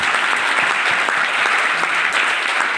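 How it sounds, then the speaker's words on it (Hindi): An audience at a training seminar breaks into loud, sustained clapping, a dense even patter of many hands filling the room. "रिकोनेक्स के लिए जोरदार ताली होना चाहिए दोस्तों"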